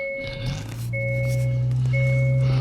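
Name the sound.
2022 Hyundai Sonata N-Line being started up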